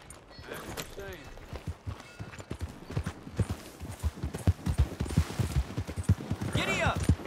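A horse's hooves clop steadily during a ride in the video game Red Dead Redemption 2. The gait is quick and rhythmic and grows louder toward the end, with voices speaking over it.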